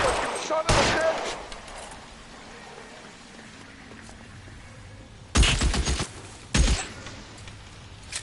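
Gunfire in the video game L.A. Noire: two loud, sharp bursts of shots several seconds apart, between them a low hum of background ambience, with a voice talking.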